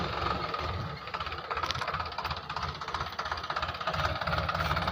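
A tractor engine running on a farm, a steady mid-pitched idling rumble with a rapid knocking pulse, close by and continuing throughout without talk.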